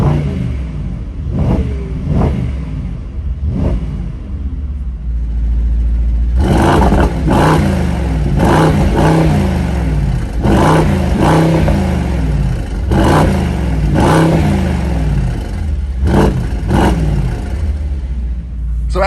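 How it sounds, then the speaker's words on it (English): A 2025 Mercedes-AMG GT63 coupe, engine still cold, revs in a series of sharp, loud bursts over a deep idle rumble, each blip rising and falling quickly with short gaps between. "Let's go ahead and give this thing a couple revs."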